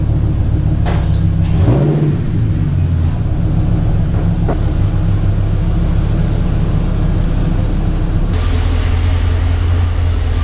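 A Dodge Dakota truck engine idles in neutral, a continuous low rumble with a droning hum that holds unchanged throughout.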